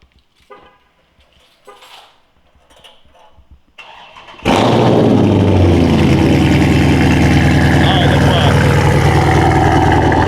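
A Scat Pack or Hellcat muscle car fires up after a few seconds of faint rustling, then a loud, close engine roar settles into a steady heavy rumble.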